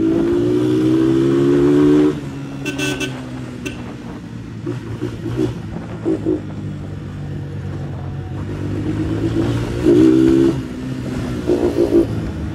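A Honda CG motorcycle engine revved repeatedly, its loud buzzing note rising and falling in short throttle blips over a rough idle, close by, with clattering and brief mechanical rattles between revs.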